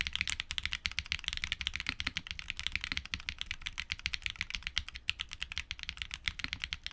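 Steady, quick typing on a mechanical keyboard with TTC switches, a dense run of soft, muted clacks with no pauses, close and fairly quiet.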